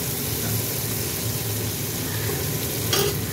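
A continuous, even sizzle of onions frying in a pan as garlic, green chili and tomato go in, for a kochu flower and shrimp bhaji; a close, dense hiss with a brief brighter burst near the end.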